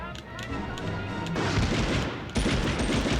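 SMG gunfire in the video game Medal of Honor, a continuous rattle of rapid shots and blasts that grows denser partway through, loud and busy from start to finish.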